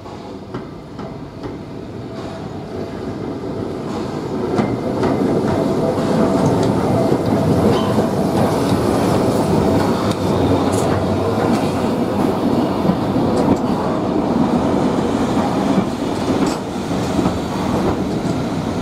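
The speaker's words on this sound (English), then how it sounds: "Little Park Train is now approaching platforms 4 and 5." A train rumbles in close by at a heritage railway station platform, its wheels clattering rhythmically over the rails as the heavy, rolling noise builds and holds.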